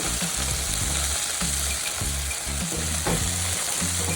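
Small chuno fish frying in oil in a wok-style pan, a loud steady sizzle throughout with rhythmic low scraping as the fish are stirred and turned, no voices.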